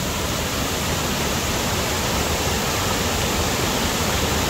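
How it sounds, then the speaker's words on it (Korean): The smaller lower cascade of Kuang Si waterfall near Luang Prabang, Laos, in the dry season gives a dense, unbroken roar of falling water, loud and constant throughout. "작은 황시폭포예요."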